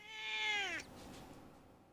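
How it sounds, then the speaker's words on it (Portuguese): A domestic cat lets out a single clear, drawn-out meow lasting under a second, fairly close, followed by quiet room ambience. "Uma das coisas que eles menos fazem é miar."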